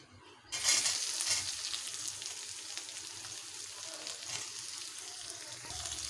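Sliced onions hit hot oil tempered with nigella seeds for a Bengali rui posto fish dish, giving a sudden loud sizzle burst that settles into a steady, close frying hiss with occasional stirring; no talking.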